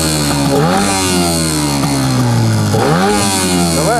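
A Tohatsu 9.8 outboard boat motor runs loud and close, its buzzing note dipping and rising as the throttle is blipped, with a brief revving swell near the end and no voices.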